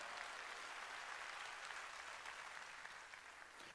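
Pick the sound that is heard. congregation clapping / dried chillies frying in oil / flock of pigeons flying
congregation clapping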